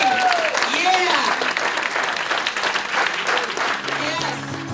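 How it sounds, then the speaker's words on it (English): An audience applauds and cheers at a Progressive Caucus Occupy movement rally in California. Dense clapping stays steady throughout, with whoops rising above it. "Just a final round of applause."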